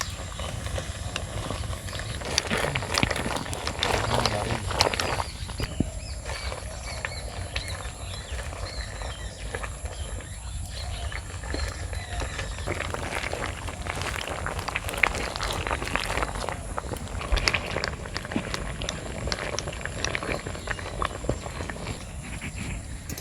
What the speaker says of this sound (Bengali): এখন আমি এটাকে ঘুটনি দিয়ে দেব, তাহলে মিশে যাবে সবজিগুলো।